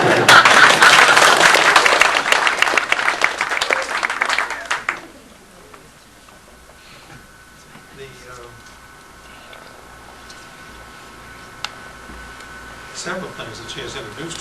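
An audience applauds Marion as she is introduced as the speaker's wife, dense clapping for about five seconds before it stops abruptly, leaving a quiet room with faint shuffling.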